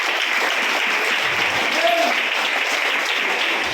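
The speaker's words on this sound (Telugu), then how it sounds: "అందరూ ఒకసారి చప్పట్లు కొడదామండి." An audience claps steadily throughout at an Independence Day gathering, a dense continuous wash of many hands at close range with no pauses.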